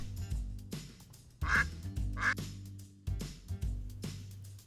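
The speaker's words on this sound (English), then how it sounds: "Here's our noisy duck." A toy duck from a farm barn playset gives a series of electronic quacks with nasal, bright tones over a bouncy background tune, several quacks in quick succession.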